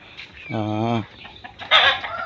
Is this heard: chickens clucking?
yes